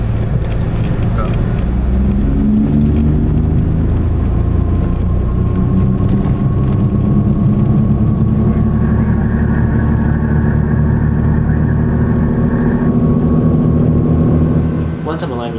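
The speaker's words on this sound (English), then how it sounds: "Once I'm aligned with the centerline, I slowly start adding power to both the engines" Piper Seneca twin engines run up for takeoff, a steady loud low drone with rising harmonic tones that builds continuously, with a voice talking over it.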